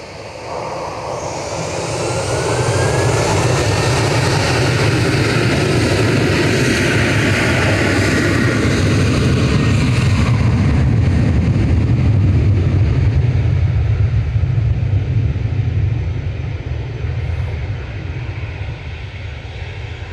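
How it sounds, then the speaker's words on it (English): An Etihad airliner taxis at Manchester Airport, its engines a broad, steady roar that swells over the first seconds, holds loud and then eases slightly toward the end, with no one speaking. "Etihad taxi now."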